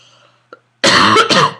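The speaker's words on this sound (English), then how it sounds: "I apologize for the coughing, but that's what bronchitis does to me" A loud burst of coughing from someone with bronchitis, a harsh, close hacking fit lasting under a second, preceded by a faint click and near silence.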